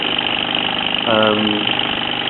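A circa 1948 Mamod SE2 toy steam engine with brass engine frame and brass wheels runs steadily, a continuous close mechanical chuffing hum with a brief louder swell in the middle.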